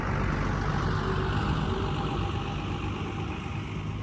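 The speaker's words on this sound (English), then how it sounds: "That's a loud truck." A loud, heavy truck rumbles past nearby, a steady deep engine roar filling the whole stretch and easing slightly toward the end.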